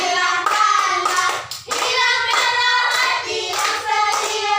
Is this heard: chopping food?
no